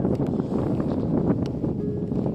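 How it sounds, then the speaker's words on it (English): Steady, low rumbling wind on the Hill of Tara in Ireland buffets the microphone throughout, a constant broadband roar with no speech. "It is windy"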